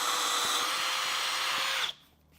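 Power drill boring into a wooden bowl blank during live edge bowl turning, a steady loud whine that holds for nearly two seconds, then cuts off sharply into quiet.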